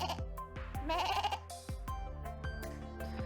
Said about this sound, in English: baaing sounds are so cute, man.